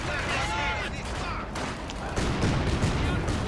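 A gunfire barrage rumbles and crackles in a World War II strategy game battle involving Panzer IVs and grenadiers, a dense continuous wash of distant shots and blasts that swells louder toward the end.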